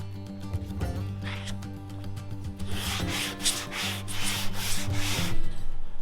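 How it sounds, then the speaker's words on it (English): Steady abrasive scraping of sandpaper against fiberglass car bodywork, continuous and close, with a low mechanical hum running underneath. "I'm sanding."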